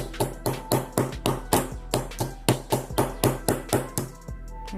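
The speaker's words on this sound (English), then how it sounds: "That's a hammer." Hammer tapping on a 2005 BMW 330i E46 during a door lock repair: about fourteen sharp, evenly spaced metallic blows, close and loud, over a steady low hum.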